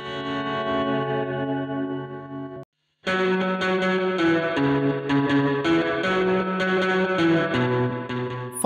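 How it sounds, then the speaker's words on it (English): Electric guitar through a Vibro Verb amp emulation, set bright and thin with slow vibrato and near-maximum reverb, playing sustained chords that swell and waver, a brief silent gap near three seconds, then denser strummed notes with a washy tail. "Set the vibrato to slow"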